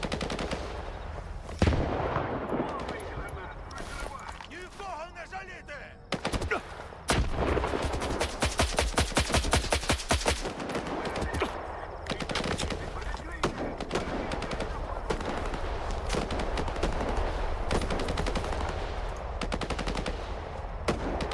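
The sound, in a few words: gunfire in video game S.T.A.L.K.E.R. 2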